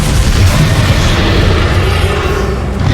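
Bombarda explosion spell in Hogwarts Legacy, a continuous loud rumbling boom with dense low-end roar sustained across a few seconds.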